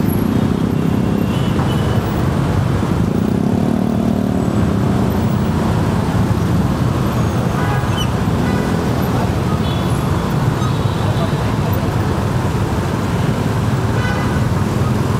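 Dense traffic jam on a road in Jakarta near the Simpang Pramuka bus stop, with a constant loud roar of car and bus engines and occasional horn toots, some faint voices mixed into the steady din.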